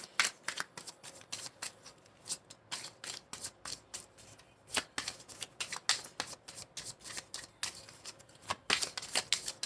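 Tarot cards shuffled by hand, a rapid run of crisp riffling flicks and slaps in irregular bursts, close and fairly quiet with no talk.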